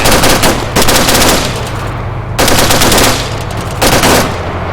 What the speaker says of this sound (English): I can't hear you over the gunfire.